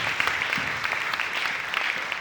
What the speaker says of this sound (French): Je voudrais qu'on vous applaudisse tous très fort.